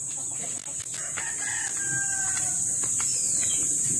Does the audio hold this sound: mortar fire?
no